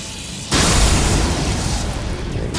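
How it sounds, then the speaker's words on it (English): A loud in-game explosion in Elden Ring with The Convergence mod bursts in suddenly after a quiet moment and sustains as a thick, roaring blast that slowly decays over a couple of seconds. "he'll go with the next explosion, I bet"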